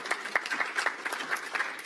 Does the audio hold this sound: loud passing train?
no